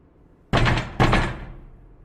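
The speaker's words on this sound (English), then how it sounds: "Ah, the old police smash door technique." Police smash a door in with two heavy, close impacts about half a second apart, each a loud crashing thud that decays quickly, with no talking.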